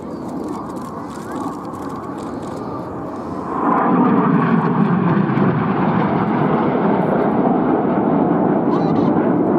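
RAF Red Arrows jets perform the Gypo break at Athens Flying Week 2017: a loud, continuous roar of jet engines that swells into a heavier, broader rush partway through and stays strong to the end, with no pause.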